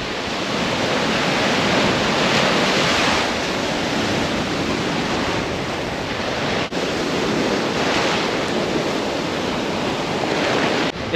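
Steady roar of ocean surf breaking at high tide on a Palm Beach, Florida shore, mixed with buffeting onshore wind on the microphone, loud and continuous throughout.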